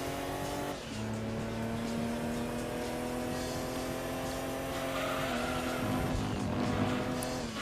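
A Mercury Cougar in Gran Turismo 2 races with its engine at a loud, steady high rev, shifting gears once and ending in a brief rise with tire noise.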